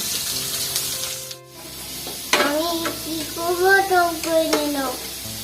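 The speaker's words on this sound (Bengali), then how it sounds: "আলু ভাজা" Food sizzles and fries in a pan while a utensil scrapes and stirs, and a voice speaks briefly over the cooking.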